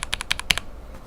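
Mechanical keyboard switches in a Cherry bottom housing clack through about seven quick, close keystrokes in an irregular burst, then fall silent.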